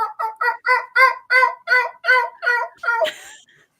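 A man vocally imitates a wild turkey's gobble, a fast run of about nine loud, rhythmic yelping notes ending in a sharper rattling burst, heard close and on its own.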